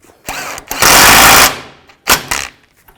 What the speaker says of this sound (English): Now install the castle nut and tighten that up.